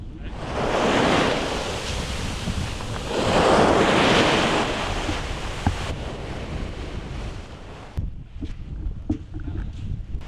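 Ocean waves wash onto a wide beach in Vietnam, two broad surges of surf rolling in and receding, close and loud with wind buffeting the microphone, then a quieter tail with light scattered clatter.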